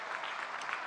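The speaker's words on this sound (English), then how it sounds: "big round of applause" Applause from a conference audience at a tech diversity panel, a short burst of many hands clapping evenly and fairly far off, with no talk over it.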